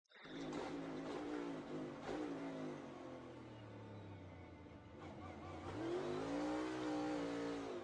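Race cars in a racing video game incident, engines revving and whining at high pitch with rising and falling acceleration tones, loud and continuous, no talk over them.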